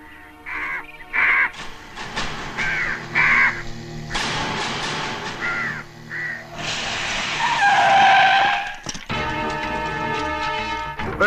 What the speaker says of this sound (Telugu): ఈ ఏరియాలో ఒక్క కాకి కూడా ఉండాలని వీలేదు.